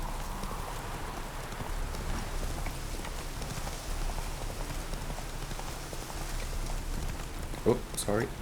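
A horse galloping in The Witcher 3, with rhythmic clip-clop hoofbeats over a rain-like rushing ambience, while someone talks throughout and a few sharp clicks stand out near the end.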